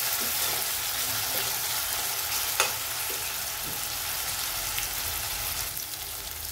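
Tomatoes and onion sautéing in a pan for misal, a steady close sizzle and crackle of frying throughout, with occasional light stirring scrapes and no talk.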